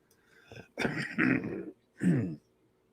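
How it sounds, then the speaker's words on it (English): A few short, rough coughs or throat-clearing sounds, close and fairly quiet, with brief silence between them. "A little cough there."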